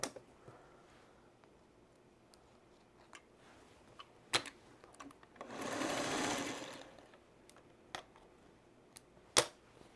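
A sewing machine runs one steady stitching burst, about a second and a half long, while flange binding is sewn onto a quilt. Scattered clicks and taps from handling the fabric come before and after the run.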